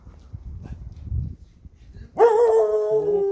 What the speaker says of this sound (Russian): Ох, серьезная собачка.